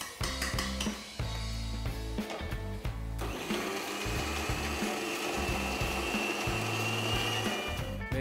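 An electric grinder whirs through ginger garlic paste, starting in short stop-start pulses and then running steadily with a loud, grinding motor drone.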